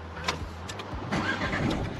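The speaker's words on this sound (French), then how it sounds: "le moteur se met à tourner" A car engine cranking and catching, with an uneven chug of starter turns that rises into a low rumble of the engine running, heard up close with no one talking.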